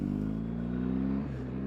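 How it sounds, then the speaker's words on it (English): A car closes in from behind on a road, its steady low engine drone close by and holding level, with a slight shift near the end. "because the car was coming up a little bit faster to my rear"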